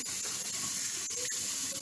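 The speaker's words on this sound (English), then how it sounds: "and then you rinse it with a little water" Water running from a tap as cleaned bathroom tiles are rinsed after scrubbing with Ajax, a steady close splashing hiss with small bumps and drips throughout.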